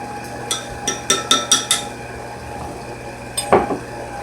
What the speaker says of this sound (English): So I'm going to give that a stir. This is our buttermilk mixture with the vinegar.